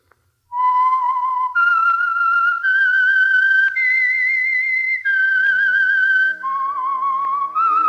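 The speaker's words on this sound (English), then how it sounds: "That whistle is your signal for the Signal Oil program" A clear, close whistled melody of sustained notes stepping up and down, loud and alone against silence.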